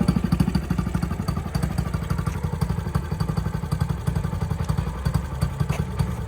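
A small custom-built pocket bike engine runs close by with a rapid, even, putting rhythm. It has a steady clattering idle throughout, with no one speaking.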